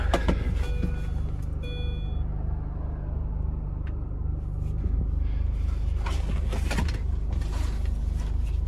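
A Mini Cooper S R53 drives around town with a steady low engine drone and road rumble from inside the cabin, shifting slightly in pitch as it moves along.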